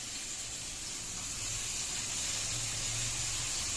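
Onions sautéing in a hot pan for spinach khichdi give a steady, even hiss and sizzle, moderately quiet and continuous, with no talking over it.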